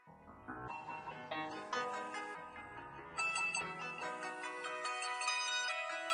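Bright, bell-like synth notes ripple in quick arpeggios slowed by a half-time effect, layered and sustained, building fuller midway with no voices present.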